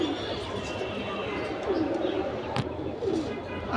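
Teddy pigeons, including Royal Teddy and Oman Teddy birds, softly cooing in a loft, heard close under ongoing conversation.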